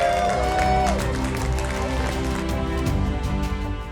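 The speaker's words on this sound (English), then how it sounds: "Big round of applause" Crowd applause and cheering for the Blackjack crew at the Sydney to Hobart yacht race finish in Hobart, a steady dense wash of clapping with voices mixed in.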